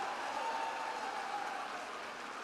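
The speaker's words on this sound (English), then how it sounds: "Give yourselves a round of applause." Faculty audience at a school district meeting applauds, a dense, even wash of many hands clapping at a distance with no single claps standing out.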